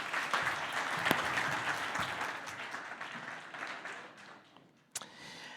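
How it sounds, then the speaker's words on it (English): A conference audience applauds with dense clapping that gradually thins and fades, ending with a sharp thump near the close. "let's have a big round of applause to Anniki."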